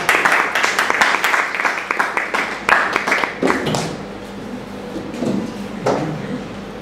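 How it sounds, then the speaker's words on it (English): Applause for a speaker at a Toastmasters club humorous speech meeting: a room of clapping hands, dense at first, then thinning into scattered claps with some background murmur. "with a big round of applause"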